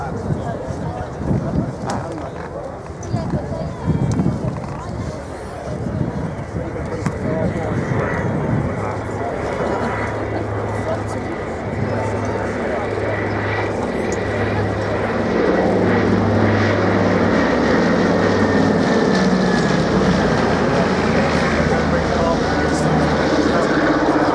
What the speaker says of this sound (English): the Catalina was drafted into the flight display